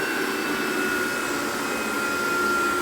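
A Vacuflo T21 powerhead on a central vacuum system runs on carpet with a steady, loud whooshing roar and a constant high whine, pressing down hard on the pile, with no talk.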